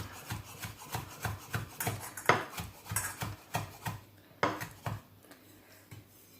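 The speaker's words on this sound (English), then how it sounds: "get rid of the stalk, chop it finely" A knife chops fresh mint leaves finely on a board in quick rhythmic taps and scraping strokes, fairly quiet and close, with no talking.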